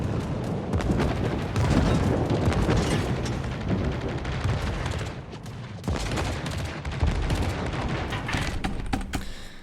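Heavy tank gunfire and explosions in a ranked video game battle, dense rumbling booms and volleys layered over one another, loud and continuous with a brief dip midway.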